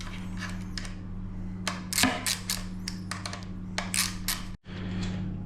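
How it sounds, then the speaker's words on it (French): A tool clicks and ratchets in short bursts of sharp metallic taps while the four axle screws on a Sur-Ron Light Bee electric dirt bike's front wheel are loosened, close up over a steady background hum. "d'abord on desserre les 4 vis sur l'axe"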